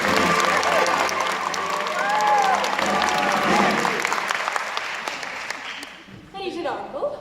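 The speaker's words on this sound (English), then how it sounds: "a warm round of applause for London's leading male impersonator, Miss Alice Nutting." Theatre audience applause at a stage musical, warm sustained clapping from a full house that fades out after several seconds, with faint voices as it ends.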